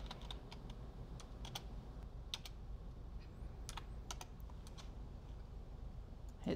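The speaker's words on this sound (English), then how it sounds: "you can type in whatever" Quiet, steady typing on a computer keyboard, with irregular light key clicks and occasional sharper taps across the whole stretch, close by and without voices.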